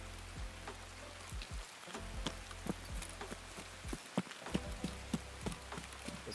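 Rain patters steadily in a survival shooter video game, a continuous hiss of drops over a low rumble, with soft repeated thuds like footsteps mixed in throughout.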